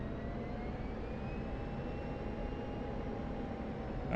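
F-16 Viper jet on final approach for landing in a flight simulator game: a steady, loud broadband engine roar with a faint whining tone, continuous and unchanging throughout with no talk.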